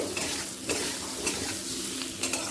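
Potatoes with salt and turmeric sizzle and crackle in a hot pan, with a few soft scrapes of stirring breaking through the steady frying hiss.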